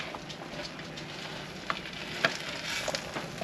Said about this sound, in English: Oh, you can hear it sizzling.